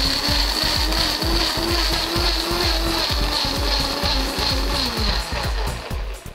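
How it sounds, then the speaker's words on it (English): A blender whirs continuously at high speed, its motor pulsing in a fast rhythmic chop as it purées cooked grapes into a thick mixture, loud and close. "transfer these guys to the blender."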